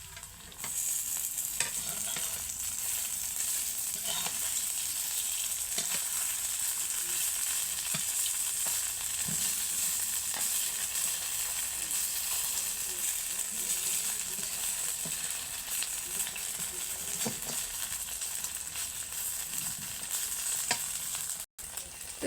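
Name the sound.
papaya pakoras frying in oil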